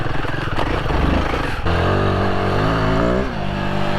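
Royal Enfield Himalayan 450 motorcycle accelerating off-road in first gear: a loud, close engine roar that climbs in pitch, briefly drops, then pulls hard again and rises before easing near the end.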